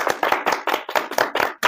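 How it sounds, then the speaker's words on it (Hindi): Rhythmic slapping of tobacco in a cupped palm, easily mistaken for hand clapping: about eight sharp, close, fairly loud smacks in quick, steady succession, with no talk. "या तमाकू पीटिया है, हम समझे ताली बजावत हैं"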